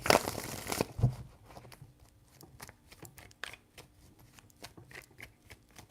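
Tarot cards are shuffled by hand: a dense papery riffle at the start, then scattered soft flicks and taps as the deck is handled, close and quiet, with no voices.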